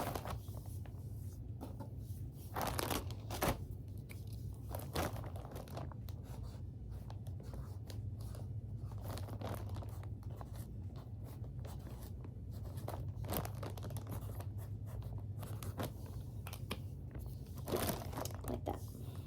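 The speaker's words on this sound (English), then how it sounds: "then you do the same thing with the masking tape." Masking tape is pulled, crinkled and pressed onto clothing tags, making soft continuous rustling and crackling with occasional sharper tearing bursts over a steady low hum, close by and fairly quiet.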